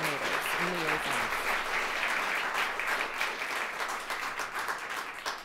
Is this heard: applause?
yes